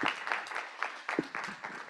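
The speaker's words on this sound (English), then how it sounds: "Deserve a round of applause" Sparse, scattered clapping from a small conference audience, a few distinct claps spread irregularly and fairly quiet.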